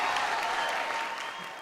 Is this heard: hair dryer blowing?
no